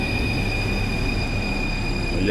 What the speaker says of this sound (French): le métro qui vient de se garer